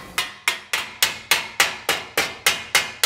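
Sheet metal struck by a hammer while forging armour, eleven sharp ringing metallic blows in a steady even rhythm, close and loud with brief decays between strikes.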